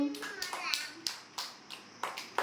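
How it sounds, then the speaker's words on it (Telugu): Small children in an anganwadi class clap in uneven bursts, several rounds of scattered hand claps mixed with a child's sing-song voice and chatter between them, fairly close and soft. "క్లాప్స్ కొట్టండి అందరూ"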